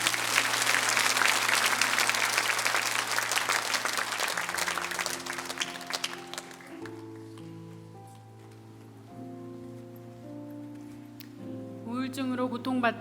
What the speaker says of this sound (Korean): 우리 맨 먼저 우리 자매님 나오시는데 뜨거운 박수로 맞아 주시기 바랍니다.